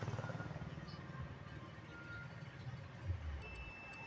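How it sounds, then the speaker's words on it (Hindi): A steady electronic tester beep sounds during a ground check on the wiring of a Bajaj Pulsar N160 BS6 motorcycle. It starts near the end, fairly faint, over a low background hum. "आप इसको जैसे इसको कहीं बॉडी में टच करेंगे बीप का साउंड"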